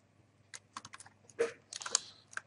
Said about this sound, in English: click that guy in